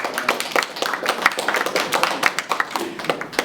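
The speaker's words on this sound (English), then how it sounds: "please give a round of applause" A crowd at a campus speaking event applauds, dense clapping and a few taps filling the space steadily at moderate volume with no pauses.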